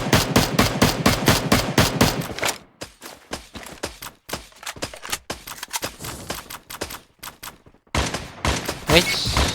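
Rapid bursts of video game automatic gunfire during a tournament, sharp repeated shots in quick rhythm, then scattered single and clustered shots, loud and close, with brief pauses between volleys.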